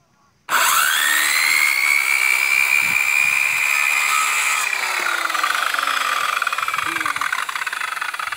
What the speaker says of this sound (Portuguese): Preparando a lenha. Pão de amanhã. Café da manhã. Energia solar off-grid com baterias. Serra elétrica. 1350 watts,